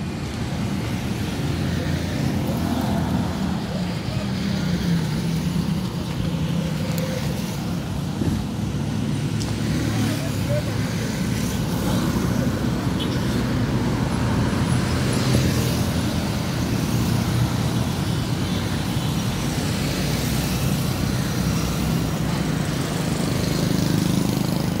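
Traffic crossing a city flyover in Kampala at night, a steady broad roar of engines and tyres heard from nearby, continuous with no distinct individual passes standing out.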